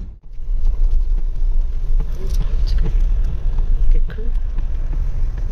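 Road traffic heard from inside a car stopped in a Delhi-area traffic jam: a steady low rumble of idling engines and passing vehicles, with scattered faint honks and clicks, while people talk over it.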